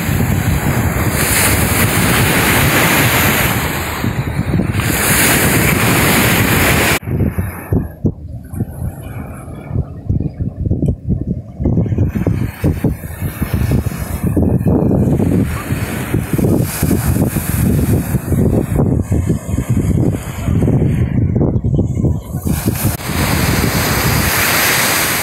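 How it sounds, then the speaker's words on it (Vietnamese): Surf rolls onto An Bang beach in Hoi An, Vietnam, with steady crashing waves and strong wind buffeting the microphone, loud and continuous. "Bắt đầu vào khu vực chính của bãi biển An Bàng."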